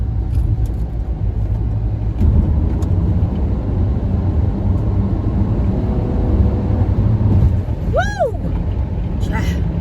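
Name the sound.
Lexus car accelerating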